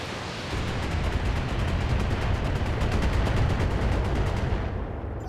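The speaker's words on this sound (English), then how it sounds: "Firing at full power." Mech weapons fire at full power in the video game BattleTech, a loud, dense, continuous barrage of blasts and rumbling that holds steady for several seconds before cutting off abruptly.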